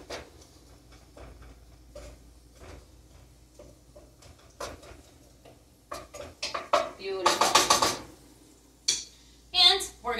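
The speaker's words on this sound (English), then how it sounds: "So let's give that a good stir. Let's break apart that butter as well." Butter and black-bean-soup vegetables are stirred in a pot, with scattered clinks and scrapes of a utensil against metal growing busier and louder toward the end while a voice talks softly underneath.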